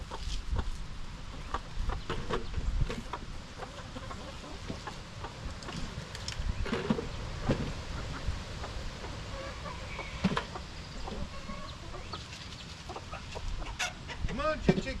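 Chickens cluck and fuss at feeding time, a busy flock heard at moderate distance over low outdoor background noise, with a faint crow and no clear talk.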